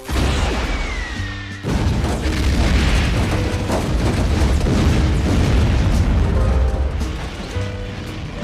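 A heat-seeking missile is fired at a military test vehicle with a loud launch whoosh, then a heavy explosion and a sustained roaring blast that fills the scene.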